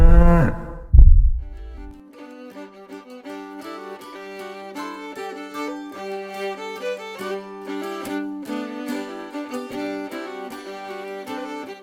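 A cow moos in a low, drawn-out burst lasting about two seconds at the start, then gives way to continuous music with plucked, rhythmic notes.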